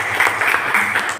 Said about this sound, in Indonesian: tepuk tangan untuk Aisyah